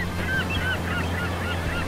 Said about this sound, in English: See how there's birds up there?